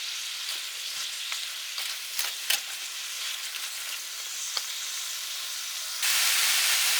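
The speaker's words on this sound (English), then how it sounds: "I'm just going to let the cabbage cook a little bit" Cabbage cooks in a hot pan, giving a steady, close sizzle and hiss with occasional crackles and pops, then turning louder and brighter near the end.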